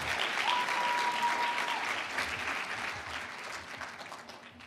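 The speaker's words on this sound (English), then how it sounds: "We get a round of applause for them." Audience applause at a hackathon's final demos, a steady wash of clapping from a crowd that holds strong throughout and eases slightly toward the end, with no talking.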